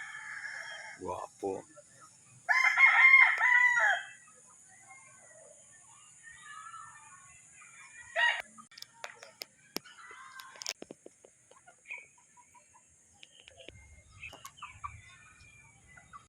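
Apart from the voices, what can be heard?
gamefowl roosters crowing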